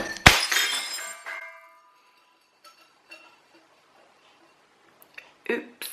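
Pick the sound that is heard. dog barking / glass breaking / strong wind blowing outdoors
glass breaking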